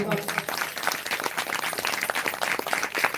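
An audience at a live devotional Ramayana recitation event claps vigorously, producing a steady, dense burst of applause for a few seconds.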